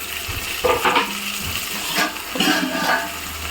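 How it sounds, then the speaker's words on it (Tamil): Onions and tomatoes fry in oil for a peppery dried fish curry, crackling close by in loud bursts as the tomatoes go in and the pan is stirred, with no voices. "ரெண்டு தக்காளி கட் பண்ணி வச்சுருக்கேன் தக்காளி போட்டுக்கலாம்"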